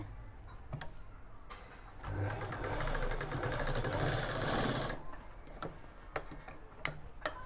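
Sewing machine stitching a latkan, a quiet rapid rattle lasting about three seconds, framed by scattered clicks and handling taps before and after.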